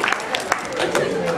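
Clapping from an audience in a brief burst of applause, the scattered claps thinning as it goes on, with a voice speaking over it.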